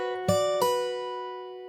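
Fingerstyle acoustic guitar playing a riff, two percussive slapped attacks a third of a second apart, followed by clear ringing notes that slowly fade, close and unaccompanied.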